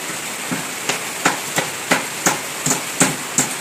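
Rain pouring at a house with no piped water supply, runoff dropping from a pipe collected for drinking; steady hiss of rainfall with a series of sharp, fairly regular drip or splash impacts about every third of a second, close by, no talking.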